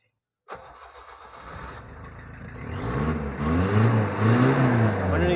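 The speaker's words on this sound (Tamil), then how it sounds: "வண்டியோட இன்ஜின் சவுண்ட் பார்த்துக்கோங்க" A 2009 Tata Safari diesel engine cranks briefly, then catches and settles into a rough idle that rises as it revs a little, loud and close with no talk.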